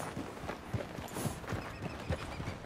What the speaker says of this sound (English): Just worry about the horse